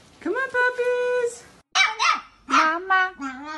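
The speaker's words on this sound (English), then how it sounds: "Puppies! Come here, puppies!" Young puppies give high whimpering yelps and short barks in several separate bursts, close and fairly loud, with brief quiet gaps between them.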